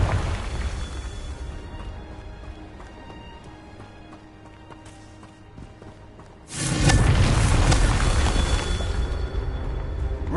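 A Confringo blast spell in the Hogwarts Legacy video game erupts as a sudden loud, dense boom that swells into a sustained rumbling roar over a low steady game background, with no voices.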